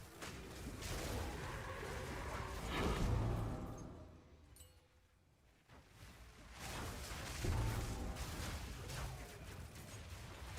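Explosions from Path of Exile 2 during Whirling Assault combat: dense, loud bursts of crashing, whooshing impacts that swell, drop into a brief lull, then surge again, with faint voice beneath.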